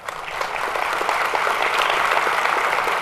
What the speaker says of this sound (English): That's the arts community clapping